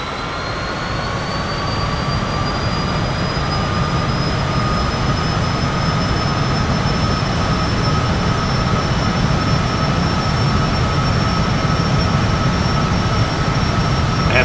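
Jet engine noise in Microsoft Flight Simulator on an approach to Kai Tak, a loud, constant roar with a high whine that slowly climbs in pitch, steady and unbroken for the whole stretch.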